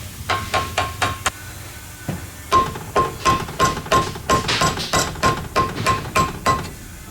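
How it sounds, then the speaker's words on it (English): Steady metal-on-metal hammer taps on a pry bar while rebuilding a Yamaha motorcycle shock, close and loud, in a quick irregular rhythm with a brief pause before a longer run of strikes. "I'm gonna stick it in on top of that with our little hammer."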